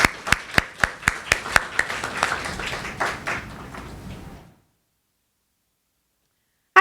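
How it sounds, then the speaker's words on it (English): An audience at a literary reading event gives a round of welcoming applause, with individual claps rising out of a steady wash of clapping for about four and a half seconds before it stops abruptly into silence. "So with a round of applause,"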